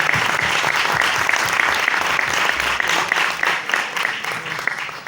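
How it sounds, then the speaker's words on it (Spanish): An audience in a hall in Merlo, Buenos Aires gives loud, dense applause for two performers at a theatre-for-identity cultural event, clapping continuously throughout with a faint crowd murmur. "El aplauso para ellas dos,"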